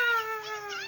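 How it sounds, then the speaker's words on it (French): A house cat meows once in a clear, drawn-out call that bends slightly in pitch, close to the microphone and heard on its own. "Ah, bref, c'est mon chat."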